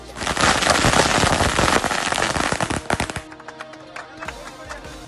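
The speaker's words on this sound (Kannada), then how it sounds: "ಪಟಾಕಿ ಸಿಡಿಸಿ ಗ್ರಾಮಸ್ಥರು ತಮ್ಮ ಸಂತಸ ವ್ಯಕ್ತಪಡಿಸಿದರು." A rapid string of firecrackers bursts in loud crackling pops at a village welcome for a new bus service, dense at first then thinning out into scattered bangs before stopping.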